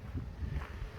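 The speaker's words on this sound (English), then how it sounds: "Windy." Wind blows outdoors on a cold early-spring day, a low, uneven rumble of gusts buffeting the microphone in close bursts, with no talking.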